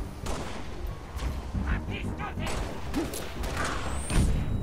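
Halo Reach game combat with repeated gunfire and explosive thuds over a dense, noisy battle soundscape, loud and continuous, with voices speaking underneath.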